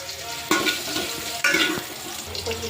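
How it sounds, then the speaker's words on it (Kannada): A sambar tempering for a festival meal sizzles steadily in a pan while a spoon stirs it, with two sharper scraping strokes across the pan over the constant frying hiss. "ಒಗ್ಗರಣೆ ಆಗಿದೆ."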